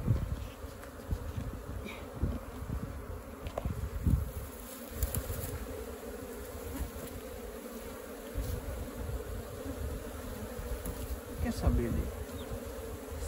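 A swarm of Apis honeybees is captured from a termite mound in an open pasture, with a close, dense buzzing that persists throughout among rustling and handling thumps.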